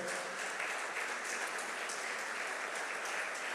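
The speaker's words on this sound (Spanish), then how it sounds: "Denle un aplauso al Señor." Steady applause from a church congregation during a sermon, an even wash of many hands clapping throughout, moderately distant and fairly quiet.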